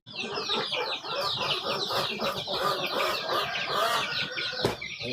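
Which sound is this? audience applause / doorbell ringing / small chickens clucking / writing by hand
small chickens clucking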